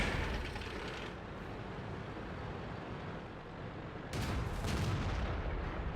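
Tank cannon fire in a tank battle video game, with a heavy rumbling boom that swells near the end over a steady low battlefield drone, fairly quiet overall and with no talking.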